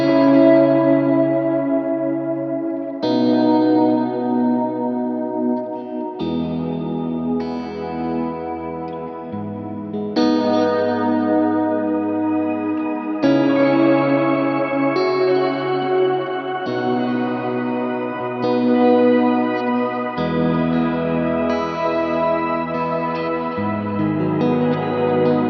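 A Kemper guitar amp in performance mode plays an octave morph effect, sustained chords swelling in with rich octave layering and echo, changing every few seconds, loud and alone.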